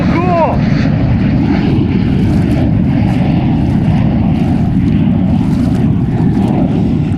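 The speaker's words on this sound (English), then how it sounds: "So I can still hear that jet as it passed" A fighter jet passes low overhead above a lake on the Missouri River, a loud, steady roar of engine rumble filling the whole stretch, heard from out on the water with no talking.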